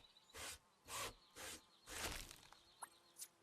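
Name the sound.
sawing wood in the video game Ranger's Path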